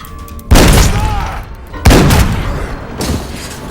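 Two loud shotgun blasts from the horror film Captivity, each a sharp boom with a long decaying tail, about one and a half seconds apart, followed by a fainter third report.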